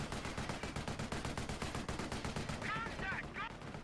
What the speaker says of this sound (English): I build a machine gun here because I anticipate that when we do push in here